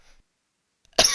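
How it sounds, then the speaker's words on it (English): A single sharp cough bursts out near the end after near silence, from a person switching from smoking to vaping and clearing their lungs. "I'm transitioning from smoking to vaping, so I'm coughing up a bunch of crap and carbon out of my lungs"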